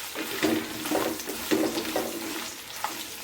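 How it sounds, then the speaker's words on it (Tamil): Chili, ginger and garlic frying over a low flame, a soft steady sizzle broken by light scraping stirs in a recurring rhythm, close and fairly quiet with no talk. "இப்போ இதையும் சேர்த்து நல்லா வறுத்துக்கோங்க"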